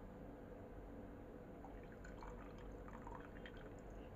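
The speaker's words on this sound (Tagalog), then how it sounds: "Tapos, lagyan natin ng tubig." Water poured onto instant coffee granules (Nescafe) in a cup, a quiet trickling and dripping pour with small splashes, heard alone against steady background hiss.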